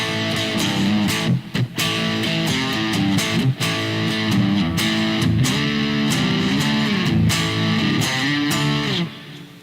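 Clean-ish electric guitar with two independent single-coil P-90 pickups plays a riff of chords and single notes with a bright, slightly twangy tone, loud and close, steady for several seconds.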